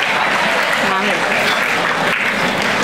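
Audience applause at a student induction programme, steady dense clapping from a crowd throughout, with some voices mixed in.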